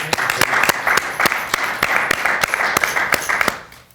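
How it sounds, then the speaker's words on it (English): A short round of applause for a speaker at the close of a day-two session, with sharp individual claps standing out over a steady wash of clapping that fades out near the end. "Let's do a quick round of applause for Ken."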